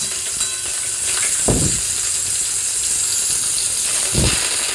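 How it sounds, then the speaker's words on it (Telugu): Peanuts and green chillies for poha upma sizzle steadily in hot oil over medium flame, a loud even crackle with two brief scraping stirs of the spoon, no voices. "తర్వాత దీంట్లోకి మనం కొన్ని పచ్చిమిరపకాయలు వేసుకొని అది కూడా ఫ్రై చేసుకోవాలి."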